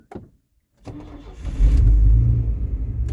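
An old OBS Chevy pickup truck, about 35 years old, gives a brief click, cranks and fires up, settling into a loud, low rumbling idle heard close from inside the cab.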